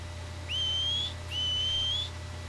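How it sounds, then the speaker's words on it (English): Two long, rising whistles in the video game Red Dead Redemption 2, clear and fairly close, each lasting about a second with a short gap between them, over a low steady hum. "You heard the whistle."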